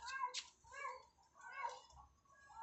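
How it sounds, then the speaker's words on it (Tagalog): A pet cat meows several times in quick succession, fairly soft and close, with faint low background noise. "Pasaway kong pusa."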